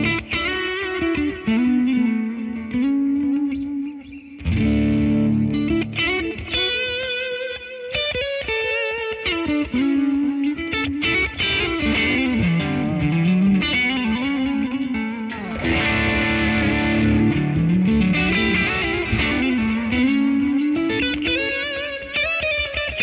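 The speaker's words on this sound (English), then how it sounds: "Starting to use my big sky just so I can get just a little bit more reverb." Electric guitar played through a worship pedalboard with distortion and a Big Sky reverb pedal, loud layered chords and melodic lines washing into long shimmering tails, continuous for over twenty seconds without speech.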